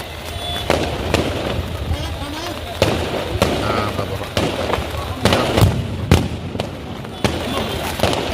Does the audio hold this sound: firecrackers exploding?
yes